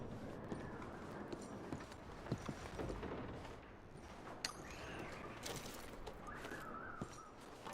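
Packed horses' hooves clip-clop on the ground at a steady walking rhythm, moderately close and fairly quiet against a rustling outdoor background, with no talking.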